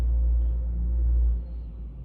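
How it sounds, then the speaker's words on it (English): A truck passes by outside, a heavy deep rumble that holds loud and steady and then eases off toward the end, with no voices over it. "there's a truck going by right now."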